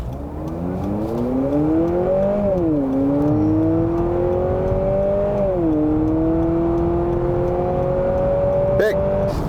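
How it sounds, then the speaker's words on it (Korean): A Honda CR-V Hybrid, 2.0-litre four-cylinder engine with electric motor, accelerates hard in sport mode, its pitch climbing, dipping at shifts, then rising again, loud and close, with a brief click near the end. "드라이브 모드를 스포츠에 두고 급가속을 한번 해보도록 하겠습니다"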